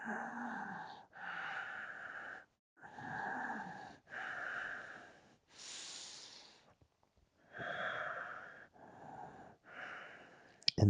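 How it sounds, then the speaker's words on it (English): Audible Ujjayi breathing during a seated forward-fold yoga pose, slow rhythmic breaths with a throaty, hissing rasp, about seven long inhales and exhales separated by brief pauses, close and clear with no talking. "Chin tucked into your chest with that Ujjayi breath."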